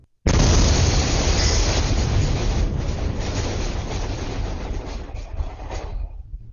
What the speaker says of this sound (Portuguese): O que essa câmera captura é o áudio da explosão. 6 segundos de um estrondo contínuo.